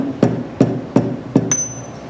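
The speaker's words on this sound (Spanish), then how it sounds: "lo golpeamos con un martillo de goma de la siguiente forma" Rubber mallet striking a tube to drive a seal into a motorcycle crankcase, four evenly spaced sharp knocks close up, followed by a brief ringing metallic tap.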